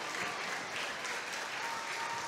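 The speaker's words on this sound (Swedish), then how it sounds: "Det jublas ner" A crowd cheers and applauds after a women's football cup final, with dense, continuous clapping and cheering that stays steady throughout and has no speech over it.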